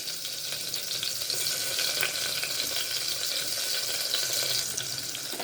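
Crushed garlic and ginger sauté in an Indian kitchen pan, giving a steady, close sizzle and crackle with a faint stirring rustle. It stays even throughout with no talking.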